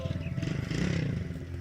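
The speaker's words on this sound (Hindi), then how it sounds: "ये बच्चे मोटरसाइकिल भगा के जा रहे हैं" Motorcycle ridden away by children beside an old canal bridge in Pakistan, a steady engine drone with rhythmic low pulsing, fairly close and moderately loud, with faint voices in the background.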